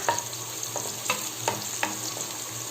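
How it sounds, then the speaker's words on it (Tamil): Small shallots fry in hot oil for a Tamil brinjal and chickpea curry, crackling in a close, steady sizzle broken by several sharp scrapes of a spoon stirring the pan. "சின்ன வெங்காயம் போட்டு நல்லா எண்ணெயில இது நல்லா ஃப்ரை ஆகணும்"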